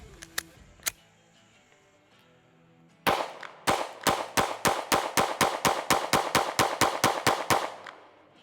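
Pistol fire from compact carry guns such as a Sig X-Macro Comp, Hellcat Pro Comp and CR920: a few isolated sharp shots, a short gap, then a rapid string of about seventeen close, loud cracks in an even cadence.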